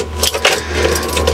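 A used camper vehicle's engine is started nearby, a key jangling against others as the starter engages, followed by a steady low idle hum that continues underneath.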